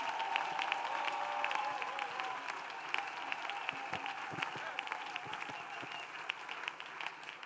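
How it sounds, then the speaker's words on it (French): A church congregation applauds loudly and steadily throughout, a dense wash of clapping with a crowd murmur beneath, held at an even level the whole time. "Clap loudly."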